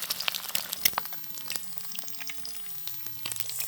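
Spinach fries in a pan, with a soft, crackly sizzle and scattered sharp pops and spits at moderate volume, steady across the moment.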